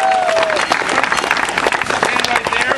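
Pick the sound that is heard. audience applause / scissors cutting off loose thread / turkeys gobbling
audience applause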